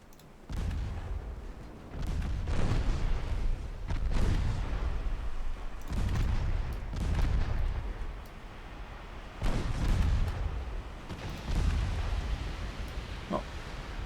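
Warship guns firing in a British naval strategy game, a series of heavy booming salvos roughly every two seconds, deep and rolling, with no talk over them.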